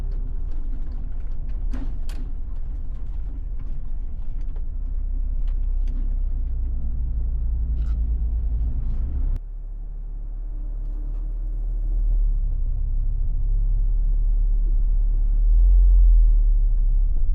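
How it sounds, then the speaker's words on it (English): Car traffic on the M1 motorway makes a distant, steady low rumble that swells and eases as vehicles pass, with a few faint higher clicks and no talk. "that's the M1 motorway."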